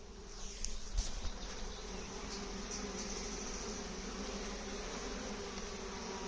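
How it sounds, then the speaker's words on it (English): A dense, steady hum of many bees buzzing close by at a beehive, continuous and even, with a few louder passes early on. "these bees are just great to watch"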